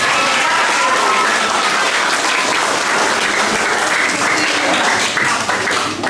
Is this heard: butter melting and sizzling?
no